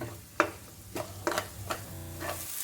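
A garlic, chili and salt paste sautéing in a pan for a bombil (Bombay duck) chutney, with a steady low sizzle broken by four or five sharp spatula scrapes and stirs, close up and with no voices.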